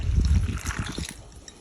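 Lactose-free 2% milk, a cup and a half, poured straight onto pudding for a no-bake holiday cake: a short, close liquid trickle and splash that tapers off toward the end, with no talking over it.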